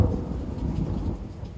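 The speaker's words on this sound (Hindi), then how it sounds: "कराची में बारिश ने जल थल एक कर दिया।" Heavy monsoon rain pours down on Karachi in a dense, steady roar with a low rumbling undertone, continuous and loud throughout, with no voices.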